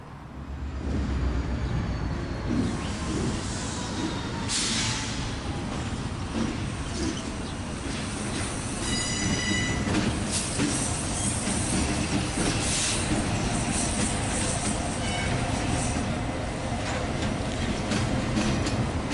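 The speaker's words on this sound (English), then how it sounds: "one of the yard jobs switching out some intermodal cars, with one of the iconic GP20C-Ecos doing the job" A GP20C-ECO locomotive rumbles steadily while switching intermodal rail cars in a Chicago yard, cars clanking and squealing nearby, with a brief high screech partway through and no voices.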